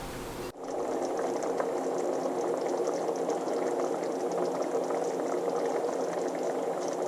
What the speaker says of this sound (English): Just let it kind of like simmer, because then it will, as it cooks, it thickens up.